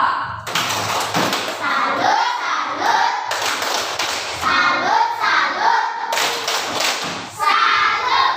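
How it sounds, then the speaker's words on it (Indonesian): A group of children clapping in a rhythmic pattern, three bursts of patterned claps with young voices chanting along, in a classroom. "kita tepuk salut untuk kelompok 2"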